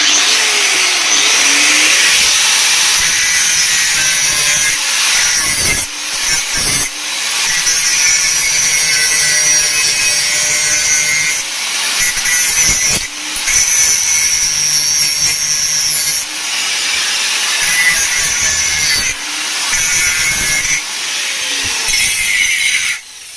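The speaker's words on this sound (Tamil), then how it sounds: "இந்த இடத்துல நம்ம மிஷின் போட்டு கட் பண்ணி எடுத்துக்கலாம்" Power cutting tool slicing into the base of a Preethi Xpro mixer jar, a loud sustained harsh whine held for long stretches, broken by several brief pauses and restarts.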